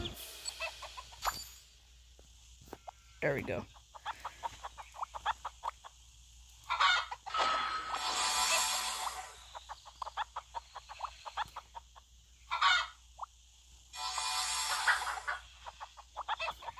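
Chickens clucking in the video game School of Dragons, a run of short repeated clucks and bursts of squawking close by, with a brief spoken line among them.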